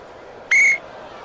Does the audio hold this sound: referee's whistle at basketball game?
yes